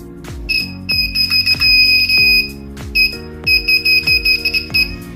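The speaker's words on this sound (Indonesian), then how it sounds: "Oke, alarm berbunyi karena ini bersentuhan." A homemade wire-touch dexterity game built from scrap cable sounds its battery-powered alarm in a rapid series of sharp, shrill electronic beeps, some bursts longer and some clipped, with clicks where the wire makes and breaks contact.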